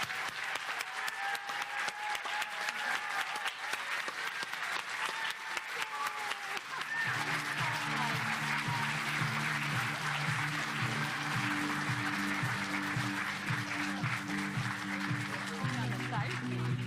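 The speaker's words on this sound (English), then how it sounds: "let's give them a round of applause" An audience applauds at a California hall-of-fame ceremony. The clapping is sustained and fills the whole stretch. Music with a steady low rhythm rises underneath about halfway through.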